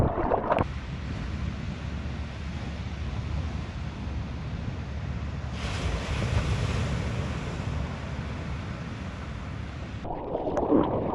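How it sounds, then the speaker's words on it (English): Small ocean waves break near the shore as the tide fills in, a steady wash of surf and wind noise that swells briefly midway and stays continuous throughout. "the wave was breaking further in"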